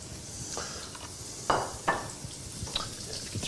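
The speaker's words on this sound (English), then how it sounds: "Hear a good sizzle on there." Food sizzles in a hot pan with cumin as it is stirred, a steady close frying hiss broken by a few sharp clinks of the utensil against the pan.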